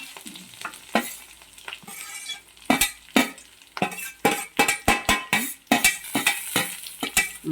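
Grated coconut frying with onion in a pan: a soft sizzle under rhythmic, close scraping stirs, with spatula strokes clinking against the metal in a quickening series.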